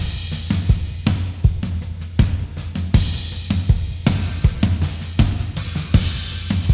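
Crash cymbals wash over a full MIDI-played drum groove, bright shimmering splashes ringing above pounding kicks and snares, loud and continuous.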